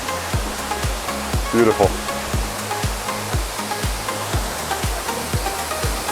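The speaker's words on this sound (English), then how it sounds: "Here we get to see the base of the waterfall that we saw from the pavilion." Steady broadband rushing of water at the base of a waterfall in Manyueyuan National Forest, a continuous close roar with a brief spoken word over it.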